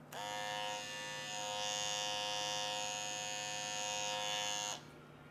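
A BaByliss FX3 hair trimmer and an Andis Slimline Pro hair trimmer run close up with a steady, bright electric buzz and whine that holds for several seconds before cutting off abruptly.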